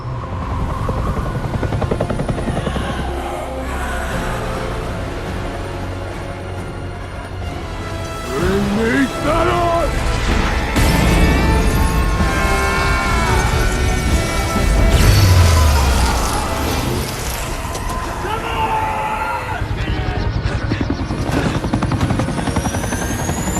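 A US military helicopter arrives in an action-film battle scene, its rotor drone running loud and steady throughout under crashes, explosions and dramatic music.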